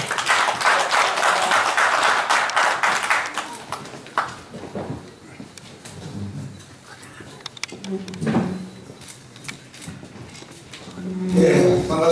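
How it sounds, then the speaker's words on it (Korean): Applause from an audience at a press conference at Gumi City Hall, where a lawyer announces his mayoral candidacy; a dense burst of clapping for about four seconds, then thinning out under a noisy hall with some talk and shuffling. "여러분의 뜨거운 응원과 박수를 부탁드리겠습니다."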